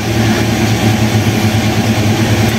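A car engine idles steadily nearby, a loud, even low rumble with a regular pulsing throb and no revving.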